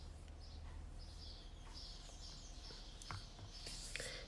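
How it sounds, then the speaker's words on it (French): Small birds chirp faintly outdoors in scattered short tweets against quiet background hiss, with a couple of soft clicks and no talking. "Et les petits oiseaux qui sont revenus."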